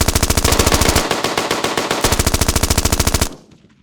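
Rapid automatic gunfire from a drive-by shooting in a TV crime drama: a long, loud, evenly spaced burst of shots that stops abruptly near the end, leaving a faint ringing tail.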